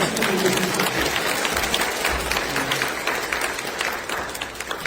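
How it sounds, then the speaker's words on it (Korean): A church congregation at Sunday worship gives a warm round of applause for a departing pastor and his wife, a full, steady clatter of many hands that tapers slightly toward the end. "박수라도 쳐주셔야 되는"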